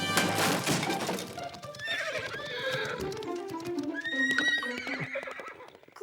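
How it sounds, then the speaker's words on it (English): Horses whinny repeatedly in a cartoon scene, with clip-clop hoofbeats and thuds mixed in, the neighs rising and falling loudly across the clip. "there are still some king's horses blocking our way"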